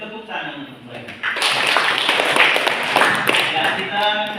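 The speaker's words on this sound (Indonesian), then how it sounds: "kita beri tepuk tangan untuk mereka" Classmates applaud a student group at the end of its presentation, clapping loudly and steadily from just over a second in until the end, with voices mixed in.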